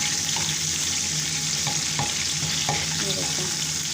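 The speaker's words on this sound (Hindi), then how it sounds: "मक्खन हमारा पकने लग गया है तो इसके अंदर मैं ये डाल देती हूँ" Spices crackling and sizzling in melted butter for a dal, a steady frying hiss with a few soft stirring scrapes and taps close by, no voices.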